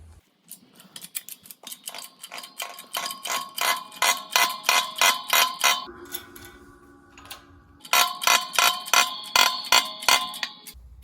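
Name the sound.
pressing bearing onto pinion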